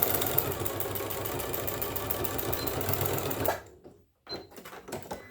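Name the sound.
sewing machine back stitching fabric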